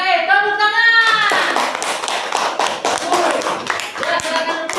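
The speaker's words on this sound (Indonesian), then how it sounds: "Oke, tepuk tangan." Classroom applause from a class of fifth-grade primary school pupils after a presentation, a dense burst of many hands clapping close by, steady for several seconds after a brief voice at the start.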